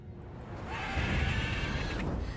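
A mare neighs in the video game The Witcher 3, a brief whinny riding over steady rumbling background noise.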